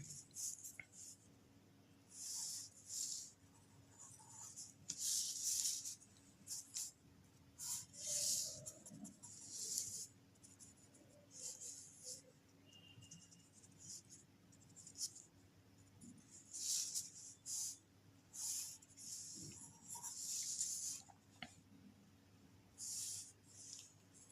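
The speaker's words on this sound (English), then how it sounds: "I am going to draw a simple pendulum." Pen or marker strokes drawing a simple pendulum diagram, faint scratchy bursts of writing repeating in an irregular rhythm over a quiet hum.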